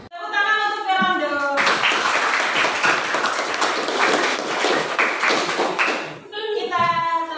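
A classroom applauds a student named Fernando after his speech: a dense, steady burst of many hands clapping lasts about five seconds, with a voice speaking just before and right after.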